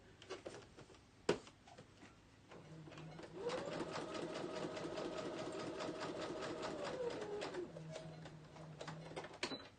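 A sewing machine stitches a page from an Edith Holden book for a junk journal, running steadily for about four seconds between a few soft clicks and handling noises.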